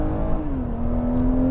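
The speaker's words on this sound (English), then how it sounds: "a nice sounding exhaust" A 2018 BMW 340i exhaust revs up and then settles into a steady drone, with the engine tone dipping and then holding loud and close throughout, and no talk.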